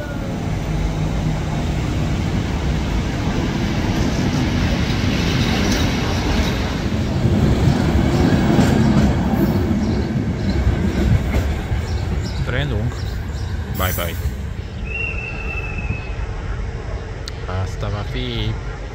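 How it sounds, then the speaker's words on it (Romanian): Single-car passenger train bound for Galați passing a station at Buzău, Romania, a steady broadband rumble and wheel noise lasting throughout, close and loud, with faint horn-like tones near the end. "Tren de Galați, un singur vagon."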